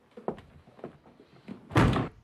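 A door kicked in during a French comedy scene: a few soft thumps and rustles, then one loud, close, heavy burst of impact as the door gives way, with no talk over it.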